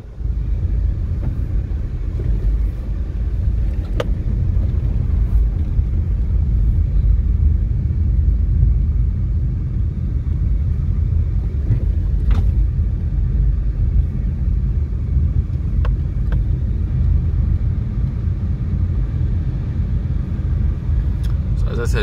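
A car driving slowly through a residential estate neighborhood in Clarendon, Jamaica, with a steady low engine and road rumble heard from inside, constant throughout with occasional faint clicks and knocks.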